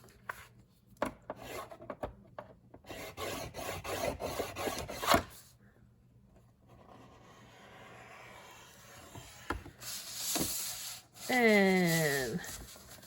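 Paper being scored at half-inch intervals on a dirty scoreboard for a copper embossed double pocket craft: close, dry rasping strokes in a steady run, then a pause, another rough scrape and a brief squeaky chirp.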